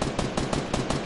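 A rapid string of close, sharp gunshots from a Fortnite match, several cracks fired in quick even succession, loud and alone without talk.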